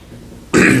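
A single short, loud throat clearing bursts in after a moment of near silence.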